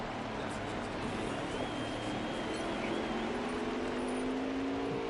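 Stock cars in an Xfinity-series racing game at Martinsville, a constant blended engine drone from several cars circling the short track at middling distance, steady throughout with no distinct pass-bys.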